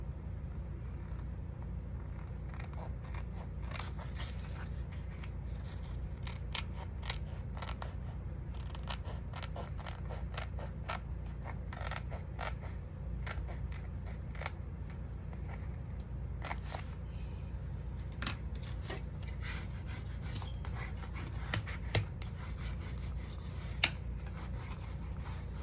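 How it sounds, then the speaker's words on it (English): Paper edges being trimmed for a small handmade calendar, a long run of soft, irregular snipping and rubbing ticks close by over a low steady background hum. "let's trim the edges of this one"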